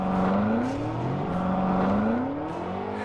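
A BMW M8 launches off the line, its engine revving loud and close in a rising whine that climbs, drops briefly as it shifts, then climbs again.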